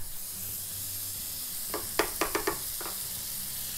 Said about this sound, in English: First thing we're gonna need, guys, is this butter to a hot pan.